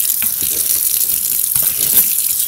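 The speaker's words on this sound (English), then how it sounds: "Put it in the running water, like in DioSpeed's video, and scrub at it." Old paint brush scrubbed under running tap water, a steady hissing splash of flowing water with faint rhythmic scrubbing beneath it.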